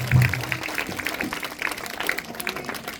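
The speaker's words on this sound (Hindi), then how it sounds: "जोरदार तालियां बच्चों" Children clap at a prize and memento presentation ceremony in a short, moderately loud burst of applause that thins out, with a voice briefly audible.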